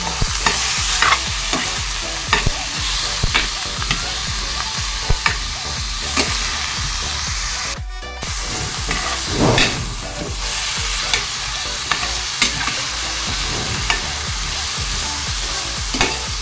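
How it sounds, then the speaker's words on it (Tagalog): Chicken sautéing in a pan with garlic, a loud, continuous sizzle and hiss broken by repeated scraping and clacking of a stirring utensil, close up and steady throughout. "Isagisa muna natin guys ang ating chicken."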